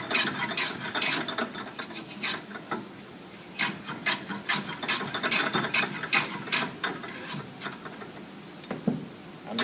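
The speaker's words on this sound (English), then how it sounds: "if you turn the block plane a little bit more so that you're shaving up rather than across" A block plane shaves the end grain of a wooden workpiece in repeated short strokes, each a dry, raspy scrape, some crisper and some softer, close up and uneven in rhythm with no talking.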